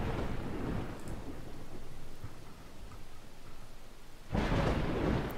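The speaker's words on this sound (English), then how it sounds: "Ooh, nasty storm." Thunderstorm in the video game Dawn of Man: steady heavy rain with a low rolling rumble of thunder throughout, swelling into a louder crack and roar near the end, with no voices.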